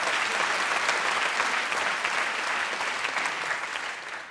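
Audience applause at a French comedy sketch show, a dense steady wash of clapping from a sizable crowd that carries on throughout and fades slightly toward the end, with no talking.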